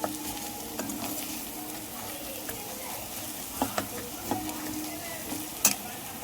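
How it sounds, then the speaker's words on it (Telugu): Spice masala fries in oil for a chicken curry, a continuous close sizzle broken by scattered spoon clicks and scraping stirs. "ఇప్పుడు ఈ మసాలాలన్నీ బాగా వేగాలండి ఆయిల్లోనే"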